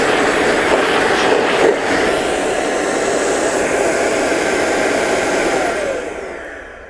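A small battery-powered electric air duster with three speeds runs in a steady, loud whoosh of blowing air for several seconds, then winds down near the end. No one speaks over it.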